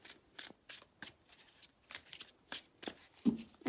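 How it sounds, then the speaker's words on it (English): Tarot cards riffle and slap together in quick repeated bursts, close and crisp, with brief pauses between shuffles. "I'm just about to shuffle the cards for you"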